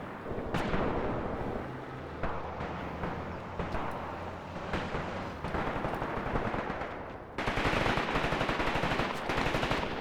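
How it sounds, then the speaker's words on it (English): An enemy Maxim machine gun rattles in Graviteam Tactics in sustained, dense bursts close at hand, mixed with heavier booms, and the fire grows louder and harsher toward the end. "that enemy machine gun is annoying"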